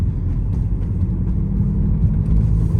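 A 2003 Ford Focus SVT with 345 miles pulls along in fourth gear, giving a deep, steady engine and road rumble heard from inside the cabin, with no one speaking.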